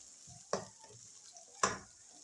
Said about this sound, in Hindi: जब तक हमारे टमाटर फ्राई होते हैं